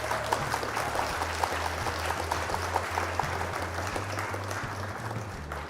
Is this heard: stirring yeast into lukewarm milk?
no